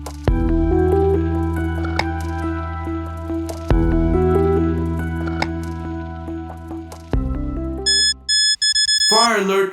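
A building fire alarm breaks in near the end as a few loud, pulsed electronic beeps over swelling dramatic music.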